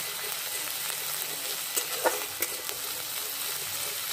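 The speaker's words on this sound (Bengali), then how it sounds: "এবার দিয়ে দেবো আদা রসুন আর কাঁচা লঙ্কার পেস্টটা, দিয়ে এটা খুব ভালো করে আগে কষে নেব।" Onion with ginger, garlic and green chilli paste frying in oil, a steady soft sizzle with a few brief stirring clinks, close and moderate in level, no talking.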